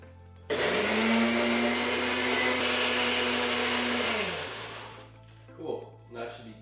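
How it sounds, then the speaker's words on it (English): A NutriBullet blender whirs loudly at close range, mixing jalapeño, salt, garlic, yogurt and mayo into a crema sauce. The steady high-pitched motor whine runs about four seconds, then winds down into quiet handling noises. "We got the NutriBullet working here."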